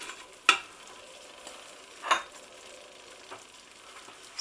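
Carrots and celery in an Instant Pot, a faint low crackle of frying broken by a few sharp stirring clatters, the loudest near the start and middle.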